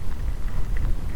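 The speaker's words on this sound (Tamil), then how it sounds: "செம மழைங்க." Heavy rain falls during a motorcycle ride, a continuous dense hiss and patter with strong low rumble underneath, steady and fairly loud throughout the short stretch with no voices.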